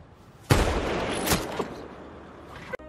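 A single sharp sniper rifle shot in a film rings out loud and close, followed by a fainter second report and a small pop, with tense background ambience trailing off.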